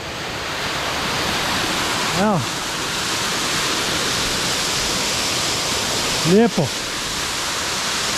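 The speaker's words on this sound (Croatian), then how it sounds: "nisam mogao doljeti i ne približiti se ovom vodopadu" The waterfall in the Höllentalklamm gorge of the Bavarian Alps gives a constant, loud, broadband roar of rushing water. Someone speaks briefly over it twice, with a short remark each time.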